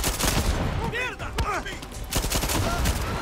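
Gunfire in the video game Far Cry 6 rings out as a busy stretch of shots and bursts, close and loud, with sweeping whooshing sounds mixed in.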